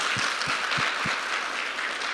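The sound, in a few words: audience applause at a live lecture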